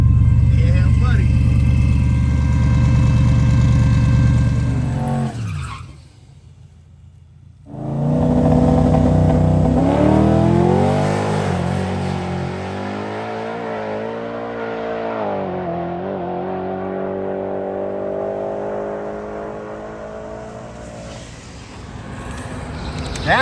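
A Coyote V8-powered Ford F-150 pickup with a 10-speed transmission roars hard through a drag run, its engine climbing and shifting loudly, dropping briefly to near silence before surging again and fading near the end.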